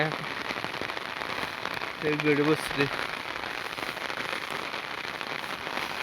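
Steady rain falls outdoors on a farm where two buffaloes sit, giving a continuous patter across the whole stretch. Someone speaks briefly in the middle over it.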